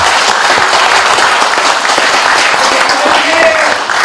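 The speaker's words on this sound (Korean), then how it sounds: "우리 서석구 변호사님에게도 박수 한번 부탁드리겠습니다" Audience applause at a symposium, a loud, dense wash of clapping from a large crowd with a voice faintly audible underneath, steady throughout.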